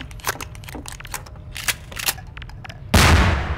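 A grenade explodes in the video game Half-Life 2: Episode Two: a sudden loud, broadband blast near the end, preceded by scattered gunfire and game noise.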